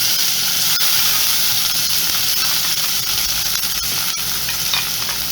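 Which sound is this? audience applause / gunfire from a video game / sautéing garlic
sautéing garlic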